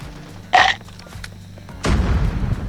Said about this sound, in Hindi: रुकना ग्रेनेड फेंक के देखता हूँ मैं।